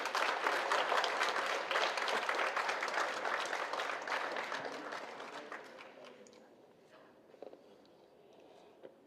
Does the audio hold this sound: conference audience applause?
yes